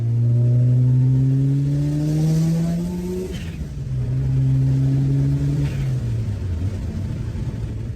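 Motorcycle engine revving on a road trip, loud and near, with pitch sweeping upward twice and then dropping back, the second rise settling into a steady drone.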